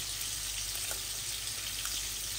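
Bay leaves sizzle in hot cooking oil in a pot: a steady, close crackling fry with light spitting pops, no voices.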